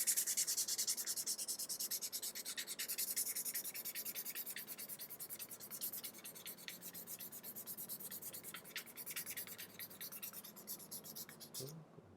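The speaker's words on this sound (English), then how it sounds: "So for the rough sandpaper, just go up and down like so, and on the edge as well." Coarse sandpaper rubbed up and down along the face and edge of a leather cardholder, a close, steady rasping scrape in quick repeated strokes that continues for the whole stretch at a soft level.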